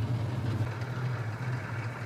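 A 1935 Rolls-Royce 20/25 limousine with a Windovers body sits idling after a morning jump start, its engine giving an even, low, continuous hum up close.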